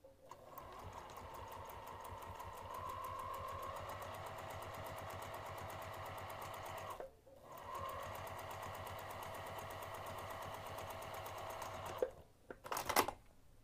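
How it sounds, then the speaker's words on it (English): A sewing machine stitches seams with backstitching at start and stop, a fairly quiet, steady mechanical whir in two long runs separated by a short pause, ending with a few clunks. "make sure you backstitch at start and stop of all of the seams."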